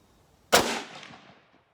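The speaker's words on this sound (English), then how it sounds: "We'll just keep on shooting" A single sharp rifle shot from an Arisaka Type 99 firing 7.7 Japanese ammunition cracks out after a quiet lead-in, then rolls off in a decaying echo over about a second.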